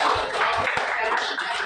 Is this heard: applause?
yes